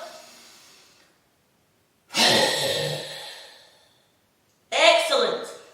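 Deep breaths during a throat chakra breathing exercise, two long forceful airy inhales about two seconds apart with a brief faint breath before them, close and loud with silence in between.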